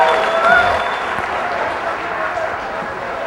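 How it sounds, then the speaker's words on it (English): An audience at a Gallagher live comedy show breaks into sustained applause, a dense, steady wash of clapping that holds for several seconds, with a few voices mixed in. "give them applause."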